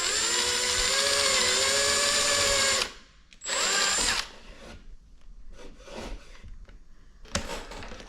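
A power drill whines steadily into a kitchen ceiling during a flush-mount light install, then stops, gives a shorter second burst, and falls to quieter handling sounds, close and alone.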